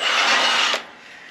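Power drill enlarging a bolt hole in a Land Rover Defender chassis, a brief loud grinding whir lasting under a second before cutting off into quiet.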